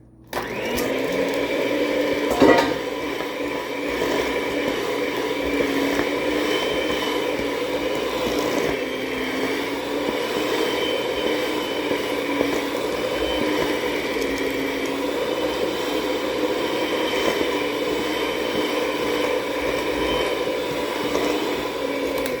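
An electric mixer steadily churning oatmeal cookie dough after three cups of Quaker oats go in, a loud, continuous whirring drone with a single thump early on and no talk.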